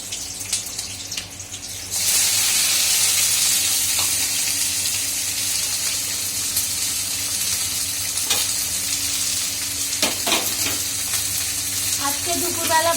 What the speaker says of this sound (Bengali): এই যে পাঁচফোড়ন দিচ্ছি, কাঁচা লঙ্কা দেবো